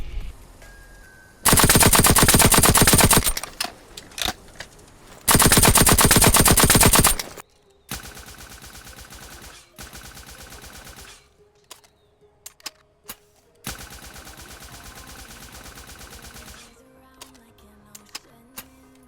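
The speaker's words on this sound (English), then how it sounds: "I'm going to play both guns firing at a mannequin to show you the recoil" Nail guns from Call of Duty Black Ops 3 and Cold War firing at a mannequin in a video game, long loud bursts of rapid mechanical shots broken by shorter, quieter bursts and pauses.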